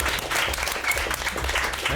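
An audience claps at a campaign event, a dense burst of applause that stays steady and fairly loud for a couple of seconds with a faint murmur of voices beneath.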